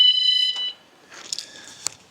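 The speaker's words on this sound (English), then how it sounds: "Yeah, turn the alarm off." A van's alarm sounds loud and close as a steady electronic tone for about half a second, then cuts off, leaving a few faint clicks and beeps.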